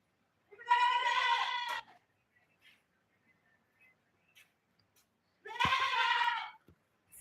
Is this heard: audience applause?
no